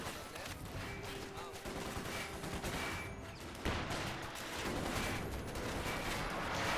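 Gunfire crackles in a Company of Heroes 2 match, rifle and machine-gun bursts popping repeatedly at moderate distance amid battle noise.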